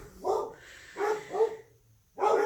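A dog barks down the street in a few separate bursts, distant and faint, heard from a home kitchen.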